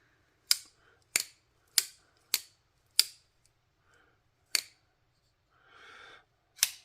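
A Remette WD107 button lock folding knife with Micarta handle and 14C28N blade opened and closed repeatedly, giving about seven sharp, close metallic clicks at irregular intervals with a brief soft rustle between them.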